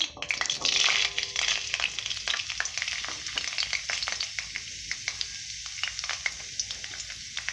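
Chopped carrots frying for fried rice, a steady close sizzle with a burst of hiss near the start and repeated scraping stir strokes throughout.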